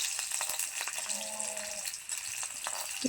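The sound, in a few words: crushed garlic and green chili frying in oil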